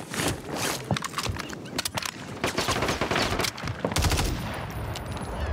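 Dense gunfire in Call of Duty Warzone on Rebirth Island, with rapid overlapping shots and bursts filling the whole stretch at steady, fairly close loudness.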